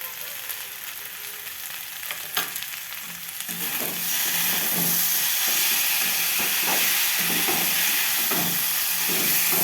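Mixed vegetables sizzle and fry in hot spiced oil, a steady close crackling hiss that grows louder and denser after the first few seconds, with faint stirring scrapes.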